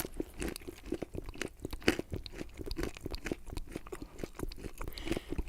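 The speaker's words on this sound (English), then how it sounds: "There's the chewing sound." A man chewing loudly close to the microphone makes wet, crunching mouth sounds in a steady, rapid rhythm for several seconds, with nothing else heard.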